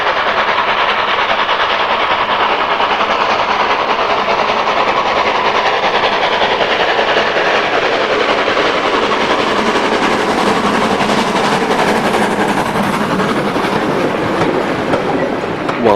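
Robert Stephenson and Hawthorns 7409 of 1948, the steam locomotive Sir Cecil A. Cochrane, running at East Tanfield: a steady, loud rumble of the engine and wagons rolls on without a break, with no voices over it.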